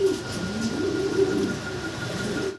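Fancy pigeons kept for sale coo nearby in low, rolling, repeated murmurs over faint background hum, with no talking.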